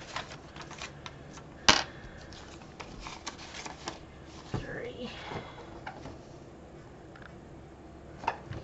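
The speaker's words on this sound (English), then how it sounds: "Time to roll dice, which is this one." Dice rolled during a Christmas savings challenge give a sharp clatter near the two-second mark, followed by scattered light clicks and taps against a quiet room background.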